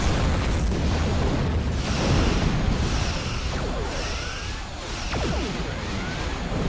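Starship weapons fire and explosions sound in the Star Trek Online space-combat game as a steady barrage of booms, whooshes and bursts. They stay loud and dense throughout, with no voices.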